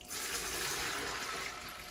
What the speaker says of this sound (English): I'm going to take my container and just lightly pour it off